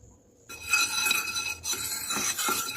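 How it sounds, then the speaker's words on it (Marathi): A metal spoon spreads ghee around a kadhai over a low gas flame, making close continuous scraping and light clinking after a brief quiet start, with no talking. "चम्मचने सगळीकडे लावून घेते कढईला तूप"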